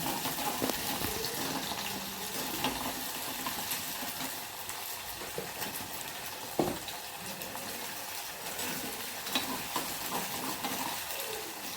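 Small shallots frying with a light pinch of salt in a pan for vatha kuzhambu, a steady broadband sizzle with occasional stirring scrapes running continuously and close at a moderate level.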